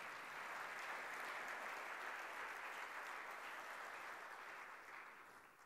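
Dense, even applause from a large audience at an entrepreneurship talk, held at a steady level for several seconds and easing off toward the end; it sounds distant and fairly quiet.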